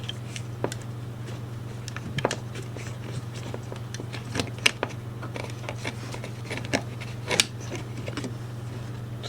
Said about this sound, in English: we're going to take apart this release here so we can separate the motor housing.